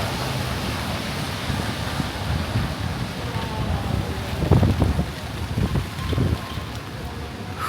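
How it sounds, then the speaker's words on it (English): Strong wind buffets the camera at night near Rockefeller Center in Manhattan, a constant rough rumble with heavier gusts midway. "The wind is so strong here"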